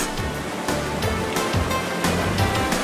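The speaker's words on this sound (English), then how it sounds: "The Kursunlu waterfall is particularly impressive." Kursunlu waterfall near Antalya, Turkey, a continuous rushing roar of falling water, loud and close, with rhythmic surging pulses and no speech.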